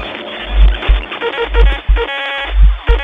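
Police arrive in the horror game Fears To Fathom: Home Alone, a loud burst of low thumping and rumbling in repeated surges, with harsh layered tones and crashes between them, up close and with no talk.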